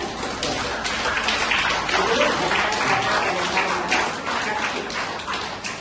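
A crowd at a public talk claps hard and together, a dense, loud, steady patter of hands close by that keeps going for several seconds with no break.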